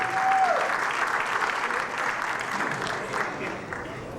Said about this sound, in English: A round of applause for Dupree